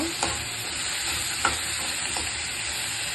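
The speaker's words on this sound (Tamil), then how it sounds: "இப்போ இதை நல்லா வதக்கிக்கோங்க" Tomatoes and other chutney ingredients sauté in a pan, giving a steady, quiet sizzle with a few soft scrapes of stirring.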